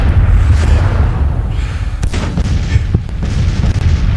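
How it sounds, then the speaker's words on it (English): Cannon artillery fires in the Civil War strategy game Grand Tactician at Winchester, a dense rumbling barrage with several sharper booms standing out over constant low roar. "until we get the majority of their cannon fire gone"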